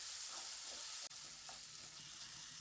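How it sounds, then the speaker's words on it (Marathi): Tomatoes sautéing in a pan until soft for a traditional village mung dal dish, a faint, even frying hiss with soft stirring movements. "टोमॅटोला पण छान असं मऊ होईपर्यंत आपण परतून घेऊया."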